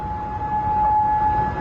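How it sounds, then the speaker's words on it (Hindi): A steady, sustained air raid siren tone holds a single pitch in Kuwait, sounding distant over low background rumble. "सायरन बज रहे हैं।"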